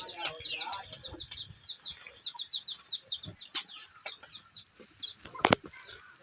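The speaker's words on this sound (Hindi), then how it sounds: "और यहाँ पर मुर्गे मुर्गियां हैं" Roosters and hens cluck and chirp in quick repeated bursts, fairly soft, over a low murmur of background noise.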